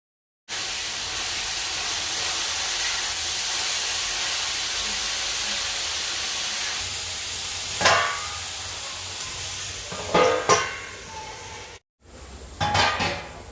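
Dried fish (sukat) cooks in a hot pan after sautéing, giving a steady loud sizzling hiss, then a few sharper bursts of crackle and stirring near the end, with no voices.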